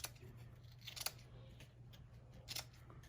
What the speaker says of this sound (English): make sure you have a good pair of scissors